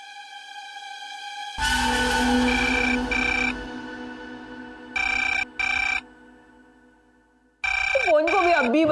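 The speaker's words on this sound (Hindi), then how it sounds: "फोन को भी अब भी बजना था।" A phone rings in bursts of bright electronic tones, sounding in several separated rings over a hum of indoor background, with a warbling tone near the end.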